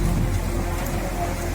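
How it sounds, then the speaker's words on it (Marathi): Heavy rain pours down in a windy storm in Nandurbar, a loud, steady, dense hiss of downpour with no pauses and no voices. "वादळी वाऱ्यासह आलेला हा धुवाधार पाऊस"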